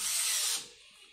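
Narex Hybro Evo 2 electric screwdriver driving a screw, a close, loud high-pitched motor whir lasting about half a second before cutting off and fading away.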